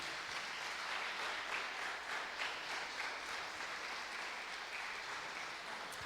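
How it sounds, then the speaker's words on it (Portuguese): Church congregation at a celebration service applauds in a long, even roar of many hands clapping, steady and full throughout with no voices rising above it. "Você pode aplaudir ao Senhor por isso?"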